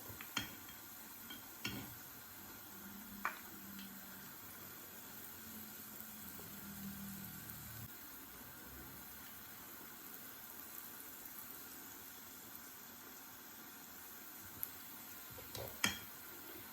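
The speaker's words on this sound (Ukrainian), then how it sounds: "Швиденько накладаємо, воно дуже швидко смажиться." Faint, steady sizzle of pumpkin dumplings frying in hot oil, with a few sharp clinks of spoons scattered throughout.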